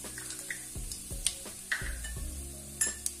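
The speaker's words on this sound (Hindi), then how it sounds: "1 छोटा चम्मच जीरा और अच्छे से तड़कने देंगे।" Cumin seeds and asafoetida crackling in hot oil over a high gas flame, a steady close sizzle with several sharp pops and clinks spread across it, no voices.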